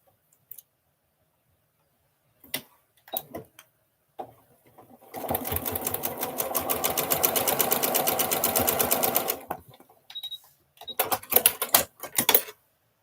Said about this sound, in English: that noise on mine is the automatic thread cutter